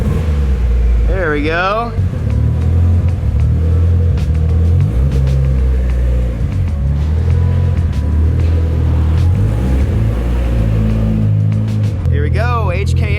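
A Mitsubishi Evo 3 engine with a big HKS turbo fires up on ethanol (E90) and settles into a loud, continuous rumbling idle, with brief chirps and squeals near the start and end and a voice speaking briefly over it.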